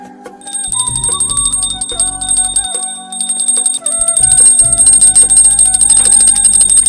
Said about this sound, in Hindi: केकरा भोरे भोरे चैन ने भेटी से तो घंटी बजैले है